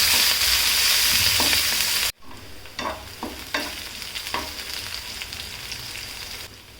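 Onion and green chilli sauté in a pan with mustard seeds and cumin, giving a steady loud sizzle that drops sharply partway through, followed by quieter frying and a few spoon scrapes and clinks.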